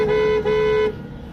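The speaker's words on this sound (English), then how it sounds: "A lot of cars are passing on I-5, honking their horns." A car horn on the I-5 highway in Oregon gives two close, loud toots, a short blast then a longer one, followed by road noise.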